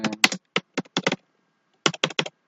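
Close, crisp clicks of fingers typing on a computer keyboard arrive in quick clusters of keystrokes separated by brief pauses, with no voice over them.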